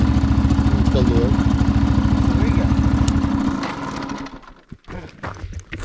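An overheated motorcycle engine idles loudly with a steady, close-up rhythmic chug, then cuts out partway through, leaving brief scattered sounds and voices.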